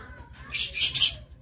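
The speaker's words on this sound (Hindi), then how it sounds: "छोटे तोते इन्होंने रखे हुए हैं, वो देखें ऊपर दोस्तों।" Small parrots in an amusement park aviary give a quick run of three sharp, high chirps over a low background hum, close by and alone, with no talk.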